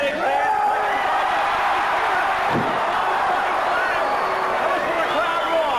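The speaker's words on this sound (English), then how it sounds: "The crowd roar." Wrestling crowd roaring loudly and steadily throughout a Ken Medlin vs Ken Dazzler Dunlop match, with cheers and whoops rising over the din and a sharp slam-like thud near the middle.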